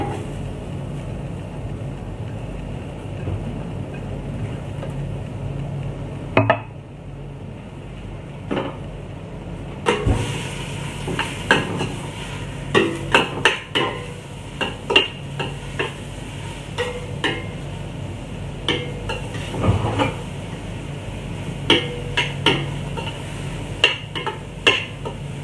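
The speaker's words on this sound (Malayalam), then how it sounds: "നമുക്ക് അതിലോട്ട് ആദ്യം നന്നായിട്ട് അരിഞ്ഞ് വെച്ച ഉള്ളി ഇട്ട് സവാള ഇട്ട് കൊടുക്കാം" Chopped onions fry in hot oil in a pan with a continuous sizzle. After about ten seconds, frequent sharp clinks and scrapes of a spoon stirring against the pan break in, loud and close.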